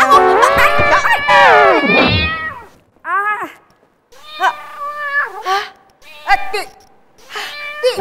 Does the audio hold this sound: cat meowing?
yes